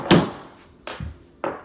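A hammer strikes a nail set three times to sink trim nails, giving sharp, close taps spaced about half to three-quarters of a second apart, with no talking.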